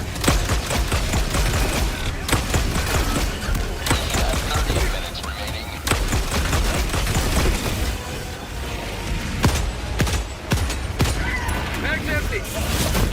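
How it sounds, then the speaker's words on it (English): An orbital barrage pounds away in the Helldivers 2 video game, a dense, continuous run of booming blasts and crackling gunfire filling the scene at high volume, with a voice talking over it at times. "Firing orbital barrage."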